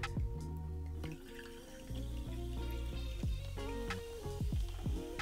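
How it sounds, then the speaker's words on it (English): Topo Chico sparkling mineral water poured into a ranch water cocktail of tequila and lime juice, a close gurgling, fizzing pour with intermittent splashes and clinks, no speech. "we're gonna top off our ranch water with some Topo Chico."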